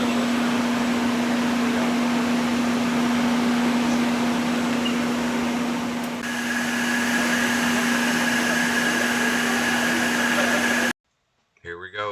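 A steady, loud motor whine drones continuously with a constant hum and a rising tone partway through, then cuts off abruptly near the end.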